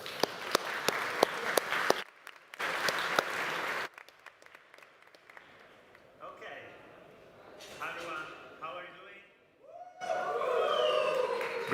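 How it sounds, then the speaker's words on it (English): Conference audience applause breaks out in short bursts of clapping, paused between, then fades under someone speaking over a microphone before a crowd builds up again near the end. "let's give a big applause first to Riccardo."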